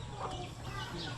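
Chickens cluck in a farmyard where small chicks peck and scrape at feed, a steady low murmur of fowl sounds continuing throughout.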